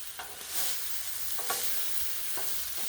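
Sirloin steaks sizzle steadily on a hot griddle, a continuous close hiss with a few brief scraping or stirring accents and no talking.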